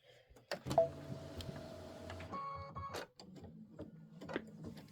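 An Aveneer embroidery machine stitches an OESD Boo Manor tile design in a 6x10 hoop, giving a close, quiet run of rapid mechanical needle clatter with shifting pitch and brief pauses, and no voices.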